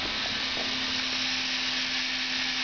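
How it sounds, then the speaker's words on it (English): A hydraulic elevator machine at a train station runs with a steady, close mechanical whir and a constant low hum, unbroken for the whole stretch, with no voices. "As you can see, there's the hydraulic piston. You can hear it leveling off"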